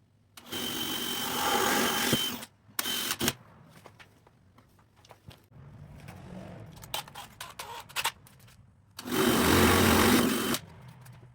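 Power drill boring holes in the metal front valance of a BMW E30 during an Alpina apron install, two loud whirring bursts with quieter handling and clicking between.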